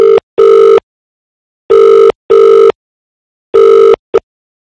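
Telephone ringback tone heard while placing a call, loud and clean: paired beeps repeating in three evenly spaced cycles with silence between them, no voices.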